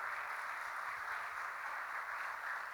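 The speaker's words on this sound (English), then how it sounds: "Please join him with a round of applause." At a keynote session of a student event, an audience gives a steady, even round of applause that stays at one level for the whole stretch and sounds a little distant, with no talk.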